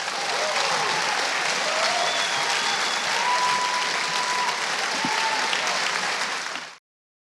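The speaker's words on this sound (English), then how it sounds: "I think we should all give you a large round of applause" An audience claps in a steady wash of applause for about seven seconds. The clapping is close and even, then stops abruptly.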